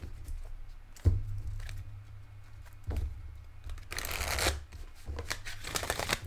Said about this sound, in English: It's like a 2-minute shuffling journey there.